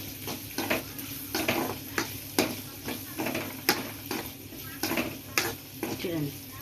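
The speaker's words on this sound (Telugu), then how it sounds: "మనం లైట్గా దోరగా వేయించుకోవాలి, ఫుల్ డ్రై కాకూడదు" Chicken pieces frying lightly in a pan, a steady close sizzle broken by regular scrapes and clicks of a stirring utensil against the metal, with a faint voice now and then in the background.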